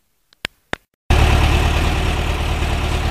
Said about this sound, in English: it's ticking over at about 800 RPM